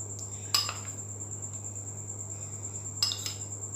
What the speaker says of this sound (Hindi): अब हम अच्छे तरीके से इसे मिक्स करेंगे।